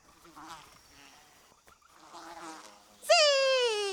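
A fly buzzes in a children's TV nature episode: two faint wavering bursts of buzzing, then a sudden louder, sliding buzzy tone near the end, with no talk over it.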